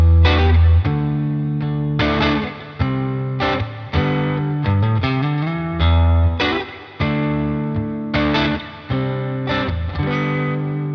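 An electric guitar with a single-coil pickup plays chords and riffs through a NUX Ace of Tone Bluesbreaker overdrive into a Deluxe Reverb amp, giving a lightly dirty, sustained tone with strummed attacks, reverb tails and steady loudness.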